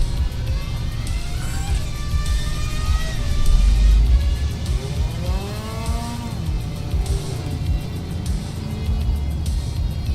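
Race car engine in the Assetto Corsa EVO driving game at Laguna Seca, California, revving loudly up and down through gear changes with rising and falling whines and a heavy rumble midway.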